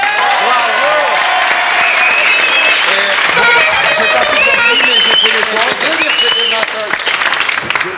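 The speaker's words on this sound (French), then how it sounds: "notre incomparable Guy, que nous applaudissons." A television studio audience applauds loudly and steadily on a French game-show broadcast, the dense clapping carrying on for several seconds while voices speak over it.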